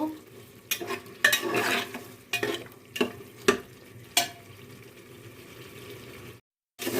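Beef head meat stirred and fried in a pan for a chickpea dal, with steady sizzling broken by several sharp scraping stirs and clinks, then a brief silence at the end.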